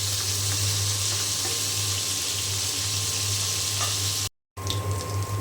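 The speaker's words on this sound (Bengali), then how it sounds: "এইখানে আমার মাছ ভেজে নেওয়া হয়ে গিয়েছে" Fish frying in hot oil for a tengra fish curry with taro and ridge gourd, giving a dense, even, close sizzle that runs nearly unbroken, with faint occasional pops and a steady low hum beneath.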